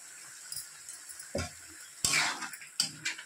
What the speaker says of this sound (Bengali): দিয়ে সবজিটাও আর কিছুক্ষণ আমি কষিয়ে নেব